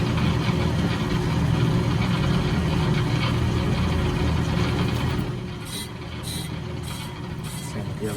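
An Accu-Turn brake lathe runs with a steady mechanical whir and hum, loud and close, while an adjuster is tightened down against a rotor. The tone drops slightly partway through, and no one speaks.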